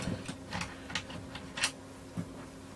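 Screws being worked loose from a hedge trimmer casing during a cut-flex repair: a string of soft, irregular clicks and ticks close by, with a few sharper metallic taps between them.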